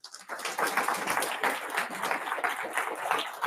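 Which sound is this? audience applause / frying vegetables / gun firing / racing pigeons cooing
audience applause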